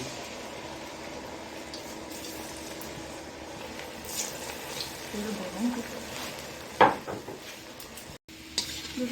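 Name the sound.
sweet potato and pointed gourd pitha frying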